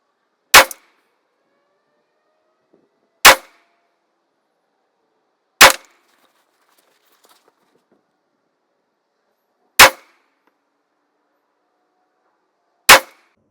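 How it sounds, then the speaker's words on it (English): Five sharp, loud rifle shots from a POF Revolution firing AAC 150-grain FMJ rounds, spaced irregularly a few seconds apart with quiet between each report. "next up we're going to be shooting the AAC 150 grain FMJ. We have 5 rounds, and we'll do a 5-shot group."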